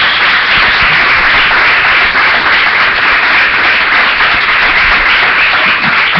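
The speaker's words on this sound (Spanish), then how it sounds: "Dele palmas al Señor." A church congregation clapping hands in worship, a loud, sustained wash of many hands clapping together for several seconds without a break, dense and close.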